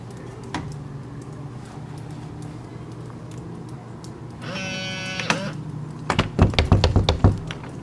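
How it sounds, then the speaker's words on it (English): A smart lock on a garage side door, triggered by an Android home automation app, runs a whirring motorized bolt for about a second, followed by several sharp mechanical clunks and clicks from the lock hardware. "Locking garage side door."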